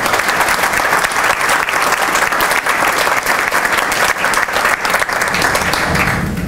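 An audience at a spirits and cocktail tasting event gives a round of applause for the apprentices: loud, dense clapping from a room full of people that carries on steadily before tapering near the end.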